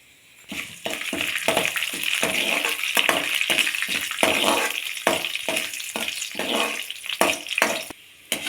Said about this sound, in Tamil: இப்போ நான் கருப்பு உளுந்து சேர்க்குறேன் இதை நல்லா வறுத்துக்கலாம்